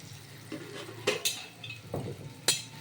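A metal spatula scrapes and taps in a pan of bottle gourd kofta curry, giving a few soft, scattered stirring clinks with quiet cooking noise between them.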